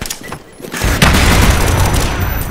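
Gunfire and an explosion from a video game, a loud deep boom after a short quieter stretch, followed by a sustained roar with dense rapid shots. Close and heavy, with no voices.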